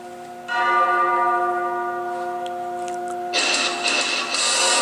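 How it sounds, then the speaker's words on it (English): A church bell rings out with long, sustained tolls that hum and linger in the air, fairly loud and close, with a burst of hissing outdoor noise near the end and no talking. "There's the bell right there."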